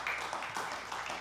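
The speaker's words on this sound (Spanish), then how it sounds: "le damos un aplauso al Rey de Reyes y Señor de Señores" A congregation in a church service claps in praise, a brief, fairly quiet burst of applause spread through the room.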